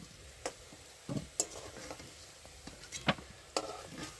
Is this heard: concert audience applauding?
no